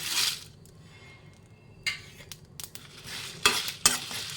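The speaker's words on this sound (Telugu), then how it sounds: "ఎండుమిర్చి వేసి కలుపుదాము ఇలాగా ఎండుమిర్చి ఏగే వరకు" Dried red chillies being stirred in a pan while making a spice powder with dried prawn shells, a few scraping strokes and light sizzle close by, with quieter stretches between stirs.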